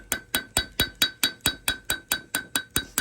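Light hammer taps against a compressor cylinder head to free a stuck head gasket on a faulty valve plate job, about thirteen evenly spaced sharp metallic knocks with a ringing tone, close and steady with no voices.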